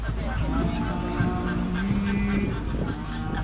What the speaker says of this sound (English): These are the greater flamingo here, tallest and least pink flamingo species.